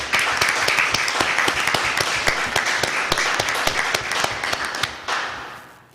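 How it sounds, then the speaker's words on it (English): A town hall audience applauds in a dense, sustained burst of many hands clapping at close range, lasting several seconds and then dropping off sharply near the end. "if we can give them a round of applause"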